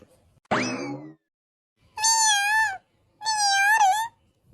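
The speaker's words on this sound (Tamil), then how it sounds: "சிங்கம் புலி கரடி இருக்கும் பார்த்தா பூனை சத்தம் மட்டும் கேட்குது" A cat meows three times: one short rising cry followed by two longer, drawn-out wavering meows, each separated by a second of quiet, heard close and clear.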